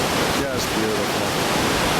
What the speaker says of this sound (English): And the waterfall's beautiful as well.